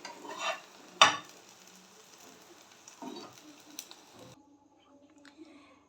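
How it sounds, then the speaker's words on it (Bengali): Chicken paratha fries in a pan with a soft, close sizzle, broken by a few louder clatters and scrapes as it is pressed and turned, then the sound fades to near silence. "হালকা হাতে আমি দুটো পিঠ ভালো করে সেঁকে নেব।"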